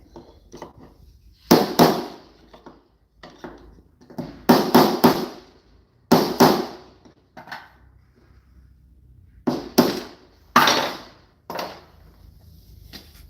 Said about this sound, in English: We'll use the chisel to pop it out and take a look at it.